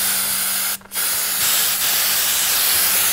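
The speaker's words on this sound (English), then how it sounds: "are you using a whole can of hairspray?" Hairspray is sprayed from an aerosol can in a loud, close, continuous hiss that breaks off for an instant and then carries on steadily.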